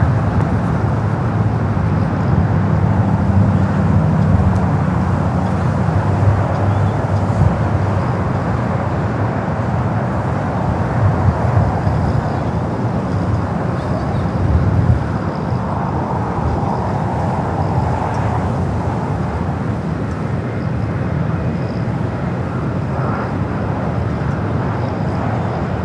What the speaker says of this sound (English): Next takeoff, Japan Airlines Flight 69 heading back to Osaka